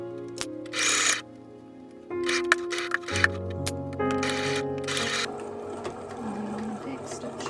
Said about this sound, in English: And back stitching over the end.